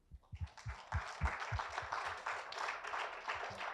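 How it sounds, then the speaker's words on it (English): An audience breaks into applause at a talk on meditation, opening with a few scattered claps that swell into dense, steady clapping from a moderately sized crowd, heard at some distance. "Give a big clap to my Jagdish sir."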